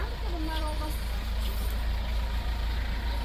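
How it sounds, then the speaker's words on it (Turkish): A vehicle engine rumbles steadily at low speed while squeezing through a narrow lane of a busy Thursday open-air market in Bigadiç, Balıkesir, a constant close drone beneath murmuring voices of shoppers and vendors. "Araç gelince yol vermek zorunda kaldık. Çünkü dar bir ara."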